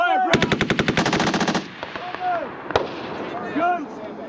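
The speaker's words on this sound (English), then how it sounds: "2 to 3 second pause, fire gun 1. Fire! 6 to 8 round burst." Marine Corps machine gun at a desert range firing a burst of about a dozen close, rapid rounds in an even rhythm. The burst stops abruptly and is followed by echoes, a single later shot and shouted voices.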